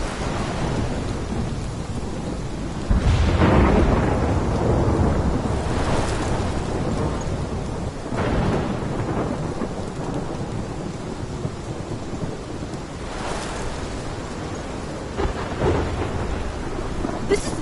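A thunderstorm in the Life is Strange video game brings steady heavy rain with repeated rolling thunder cracks and rumbles, several strong booms spread across the stretch, loud and close with no voices.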